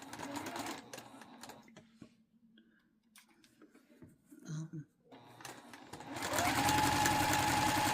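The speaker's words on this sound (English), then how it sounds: "I'm sewing like really close to the edge, y'all." A sewing machine stitches very close to the edge of fabric for a valance, short whirring bursts separated by quiet pauses, then a louder sustained run at the end.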